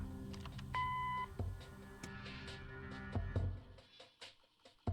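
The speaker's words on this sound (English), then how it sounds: "Leave a message after the beep." An answering machine in the Kathy Rain game gives a short electronic beep, a clear tone lasting about half a second amid faint room noise and small clicks.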